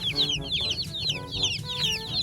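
A group of young broiler chicks peeping continuously in a rural coop, with high, rapid overlapping chirps close by and a steady low background murmur.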